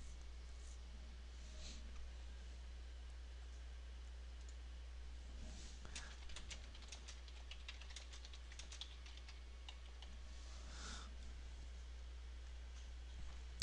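Light clicking and tapping at a computer while editing a Google+ post, soft and sparse over a steady low hum, with a few clustered bursts of clicks and no voices.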